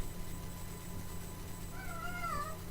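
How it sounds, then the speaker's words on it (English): A domestic cat meows indoors, a few rising, drawn-out calls late in the clip over a steady low electrical hum, fairly close and clear. "he meows a lot"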